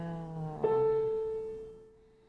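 A single piano key, the A440 tuning note, is struck once and rings as a clear steady tone that fades over about two seconds. It is fairly quiet and close, heard alone with no talk.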